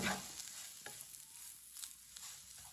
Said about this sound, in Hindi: इसे ऐसे ही चम्मच चलाते हुए भून लेना